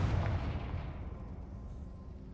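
A Confringo spell from Hogwarts Legacy bursts with a single booming blast, a loud low impact that rolls off into a fading rumble, with no voices.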